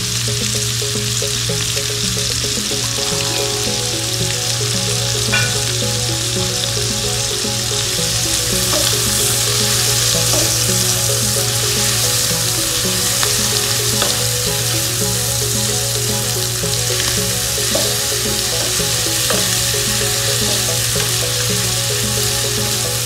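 Curry paste fries in a pot for tom yum soup, giving a loud, continuous close-up sizzle with light stirring scrapes throughout and no talking.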